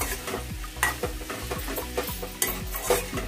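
Fried radish being stirred into cooked tomatoes in a pan, a spoon scraping in a steady rhythm of about one stroke every half second over soft continuous sizzling, close and alone.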